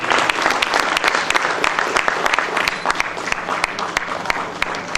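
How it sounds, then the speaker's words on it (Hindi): A hall audience at an Indian media awards ceremony breaks into sustained, dense applause, many hands clapping together at a steady moderate level with faint crowd murmur beneath. "इसके लिए एक बार जोरदार ताली।"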